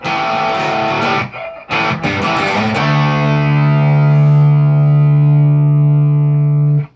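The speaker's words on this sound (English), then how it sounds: "I hear sort of a slide up like that" A distorted electric guitar plays a few chopped chords, then slides up into a long sustained power chord that rings out loudly.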